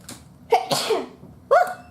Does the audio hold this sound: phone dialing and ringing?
no